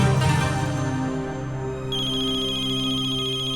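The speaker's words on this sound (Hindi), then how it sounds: "अरे ये तो बाइसा का फोन है।" A loud, steady electronic mobile phone ringtone plays continuously, with a melodic tone that shifts partway through, close and unbroken.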